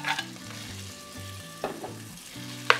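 Refried beans dropped into a pan of frying chorizo and onion, a loud close sizzle with scraping and stirring clatter, a sharp utensil knock near the end, no voices.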